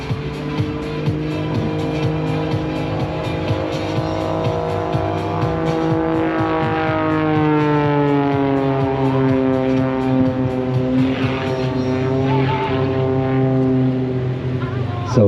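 A Pitts Special aerobatic biplane at Blackpool Airshow 2025 drones loudly through a snap roll, its engine pitch sweeping up and down. A commentator talks over the steady roar.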